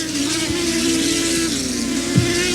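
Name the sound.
mini-sprint race cars racing on a track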